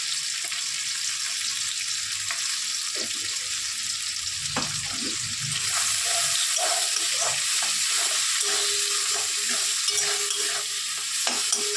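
Jackfruit with chana dal, turmeric and salt stir-fries in a pan, giving a loud, continuous sizzle and hiss with repeated scraping strokes of a spatula throughout.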